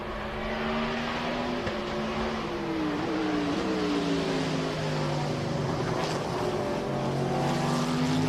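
A race car at full speed on the Road America circuit drones steadily at a distance, its engine pitch sliding downward as it passes, a constant moderate roar with no talking.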